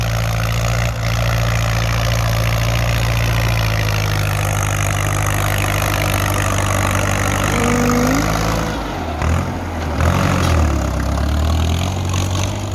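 A Ford 6600 farm tractor engine runs steadily at a low, heavy idle while filling in a pond, then dips and surges near the end as the throttle changes; loud and close, with no talk.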